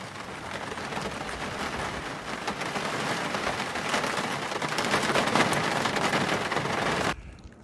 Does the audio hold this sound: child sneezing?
no